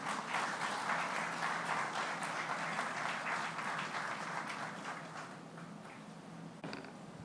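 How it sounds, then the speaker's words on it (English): An audience applauds Dr Subramaniam Jaishankar at a handover ceremony: sustained crowd clapping at a moderate distance, holding steady for several seconds and then slowly tapering off. "Let's give another warm round of applause to Dr. Subramaniam Jaishankar."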